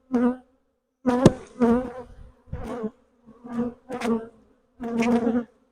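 Bursts of dense, steady buzzing from many honeybees at a hive, loud and close, coming in several waves separated by brief pauses.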